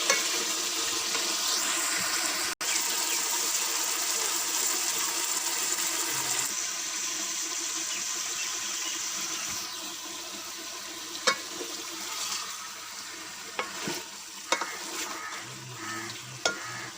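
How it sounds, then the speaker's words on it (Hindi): Spices roasted and stirred in a pan over medium heat, a steady close frying sizzle running throughout with occasional sharp scrapes and clicks of a spoon against the pan, no voices. "स्मेल ख़त्म होने तक इसको मीडियम आंच में अच्छी तरह भूनेंगे।"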